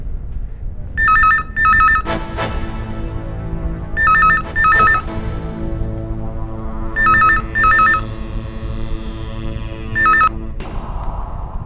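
A telephone rings in repeated double trills, four rings spaced about three seconds apart over a steady background hum.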